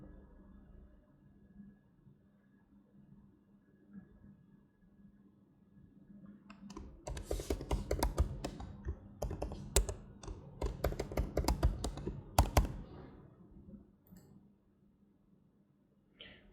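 A password is typed on a computer keyboard, a quick cluster of close, crisp key clicks after several seconds of quiet room tone, then fading back to silence.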